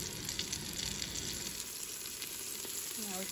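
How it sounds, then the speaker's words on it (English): Chicken browning in oil inside a Ninja Foodi multicooker, a steady close sizzle and crackle that runs unbroken throughout, with a brief faint clink near the end and no talking. "So we just wanna brown it a little bit, both sides, until it's just about cooked fully."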